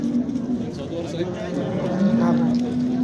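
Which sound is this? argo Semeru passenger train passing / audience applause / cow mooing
cow mooing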